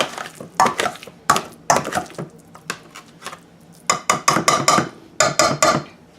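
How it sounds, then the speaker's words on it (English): Spices and herbs for guacamole stirred together in a bowl, irregular bursts of clinking and scraping from a utensil, close and sharp, with short pauses between strokes. "let's mix those spices and herbs together"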